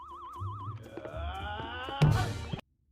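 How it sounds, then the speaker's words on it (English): A laser sound effect from a movie: wobbling electronic tones give way to a descending sweep of pitches that ends in a brighter, noisy zap before cutting off abruptly. "the laser sound I'm more used to sounds like this"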